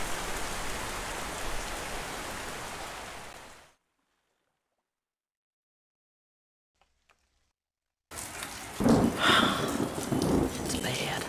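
Heavy rain pours down with rolling thunder in the survival horror game Into The Dead 2, a steady loud downpour that cuts out to near silence for several seconds before the storm returns just as loud.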